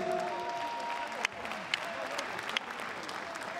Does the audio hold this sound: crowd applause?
yes